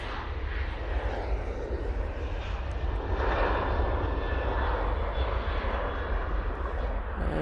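A TUI passenger jet's engines roar steadily at an airport, a broad sustained rumble holding loud and even throughout without any voices.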